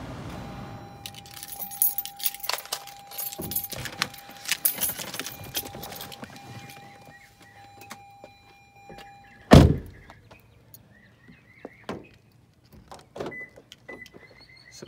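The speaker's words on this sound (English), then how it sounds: "We'll go ahead and set down the keys so I'm not juggling them all around." Car keys jangle and clink in hand inside a van, with bursts of metallic rattling over the first several seconds, then a sharp clunk and a few fainter jingles as they are set down.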